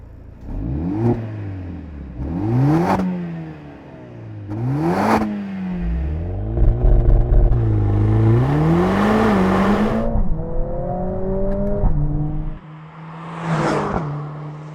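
New Mercedes-AMG A45 S engine revving in a series of sharp throttle blips, followed by longer rising pulls with crackling bursts, loud and close, settling between revs.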